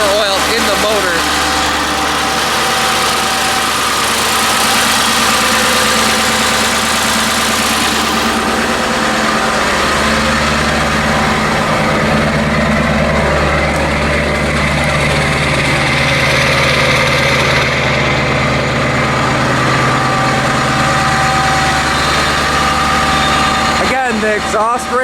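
A Ford 7.3 Powerstroke diesel swapped into a 1976 F600 truck idles steadily with a deep, rumbling, loud drone throughout, a continuous low engine throb with a voice talking over it.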